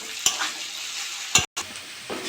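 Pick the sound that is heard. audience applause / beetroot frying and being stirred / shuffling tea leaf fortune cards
beetroot frying and being stirred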